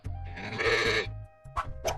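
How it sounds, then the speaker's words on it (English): A sheep on a farm bleats loudly and close up, one long wavering call followed by two shorter bleats, with a low background hum. "It's a sheep!"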